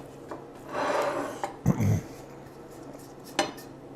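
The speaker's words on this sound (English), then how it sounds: "Let's try stirring it in with whatever we have left" A utensil stirs Stanky The Clasico hot sauce into leftover cheese, giving a few close scraping and clinking strokes, one loud burst in the middle, against a quiet room.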